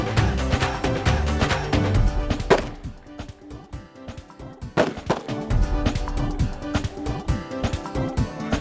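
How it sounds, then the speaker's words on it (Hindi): Rapid crackling bursts and sharp pops of fireworks going off continuously at a village fair, loud and dense, with a brief lull in the middle before the barrage resumes. "आतिशबाजी चला दी जाए।"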